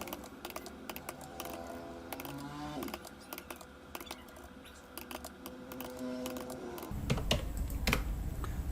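Typing on a computer keyboard during a PowerPoint 2019 tutorial, with bursts of quick key clicks in uneven runs, close and fairly quiet, followed by a louder patch of denser clicking near the end; no talking.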